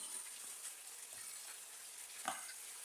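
Minced meat fries in a pan as it is stirred, giving a faint, steady sizzling hiss with a brief scrape of the utensil near the end.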